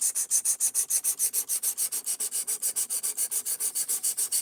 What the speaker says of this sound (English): right now I'm focusing on sharpening this knife